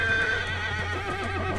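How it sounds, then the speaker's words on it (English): A horse whinnies loudly and close in the survival game Atlas, a long shaky neigh over a steady low hum, with faint hoof clops beneath. "It's a good horse."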